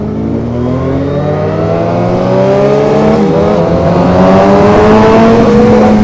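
A Suzuki Hayabusa motorcycle engine accelerates hard and loud, its whine climbing steadily in pitch through a gear with a brief dip, heard up close over constant wind rush.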